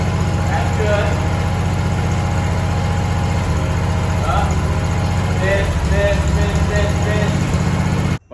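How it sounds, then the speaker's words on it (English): Lawn mower engine running steadily at lower RPM with an uneven, misfiring note, a loud continuous low drone close by that cuts off abruptly at the end. "That's a misfire. At a lower RPM."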